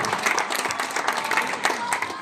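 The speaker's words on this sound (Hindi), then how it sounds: "उनके लिए भी एक बार जोरदार हम ताली चाहेंगे" Applause from the audience at a school's 16th anniversary function, a dense wash of many hands clapping continuously at moderate distance, with faint crowd murmur underneath.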